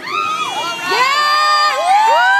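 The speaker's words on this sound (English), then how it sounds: "Kayla, cheer for your mom." Children and adults cheer and shout at a birthday party, a loud continuous crowd of high whoops and rising and falling voices.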